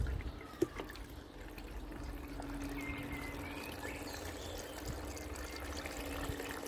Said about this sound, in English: Now I can hear the water running back through, and hopefully that will now start pouring out